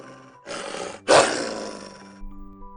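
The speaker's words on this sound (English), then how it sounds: "they heard a terrifying sound of beasts right behind" Wild beasts roaring in a children's English telling of The Wizard of Oz: two loud, rough roars in close succession, the second bigger and trailing off, with no speech.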